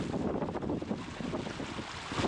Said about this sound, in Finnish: Vuolas on virta ja tuuli on väkevä.